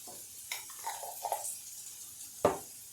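Chicken cooks quietly in a pot with a soft, low sizzle, broken by a few light clinks and stirring scrapes of a utensil against the pan.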